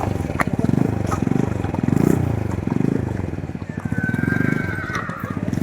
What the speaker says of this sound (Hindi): और सबसे ज्यादा ऊंचा घोड़ा ये है इस राइड का, और इसमें हमारे बैठने वाले जोशी भाई।